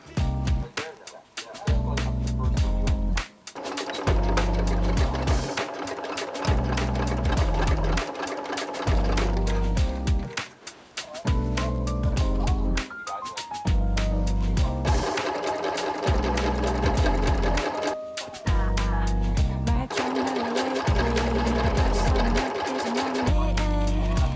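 An electric sewing machine stitching patchwork skirt panels together runs in long, fast, steady humming bursts with brief stops between seams, close and loud, with no talking.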